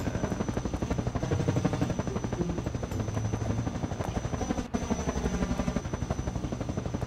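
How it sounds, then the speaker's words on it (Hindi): Helicopters circling overhead in the Roblox video game, a continuous loud rhythmic rotor chop with a steady whine, unbroken for the whole stretch with no talking. "ऊपर देखो भाई सारे हेलीकॉप्टर घूम रहे हैं हमें पकड़ने के लिए"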